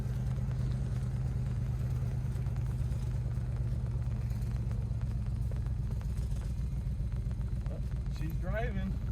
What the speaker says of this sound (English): it sounds like a tractor because the exhaust is hooked up.